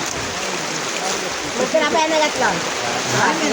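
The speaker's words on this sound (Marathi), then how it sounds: "पावसात अडकलं म्हणून इथे थांबलेलं आहोत" Heavy rain pours steadily during a stop while travelling, a dense even hiss like rushing water that stays constant, with faint voices murmuring underneath.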